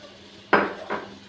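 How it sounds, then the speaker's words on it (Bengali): A wok is set down on a home kitchen stove while a Bengali soybean-poppy-seed dish is being cooked, giving two close, sharp metallic clanks about half a second apart in a quiet room. "কড়া বসিয়ে দিয়েছি"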